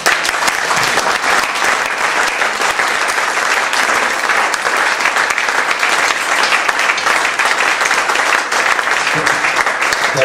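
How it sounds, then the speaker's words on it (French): An audience applauds after a Humania performance: loud, sustained clapping from a large crowd, dense and even throughout with no pauses. "On va vous remercier et vous applaudir"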